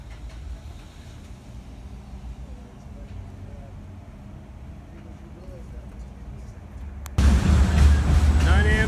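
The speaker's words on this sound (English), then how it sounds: "I've been expecting this train to come through" A train rumbles through Pasco, a low steady rolling drone heard from some distance with a voice talking over it, then a sudden louder, closer burst of rail noise near the end.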